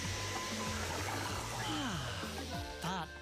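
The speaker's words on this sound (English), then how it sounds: "he's a special kind of vacuum that can vacuum up wet things too" A cartoon wet vacuum sucks up liquid with a continuous airy whooshing roar, joined by sliding cartoon sound effects and a brief voice near the end.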